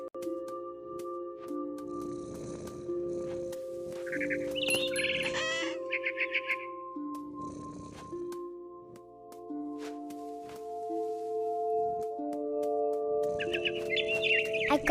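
A mother bird squawks and chirps in the video game What Remains of Edith Finch as a cat eats it, repeated harsh bursts of calls over sustained tonal game music.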